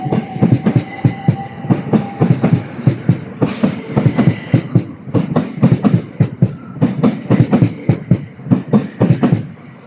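A train rolls loudly through Sevenoaks station, its wheels producing a rapid, rhythmic clickety-clack over rail joints with a heavy rumble and a brief metallic squeal partway through, close and dominant throughout.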